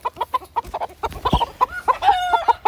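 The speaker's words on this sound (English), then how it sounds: "These are the best roosters to have." Chickens cluck in quick, close bursts, a rooster and Silkie hens among them, with higher calls and squawks overlapping through the short stretch.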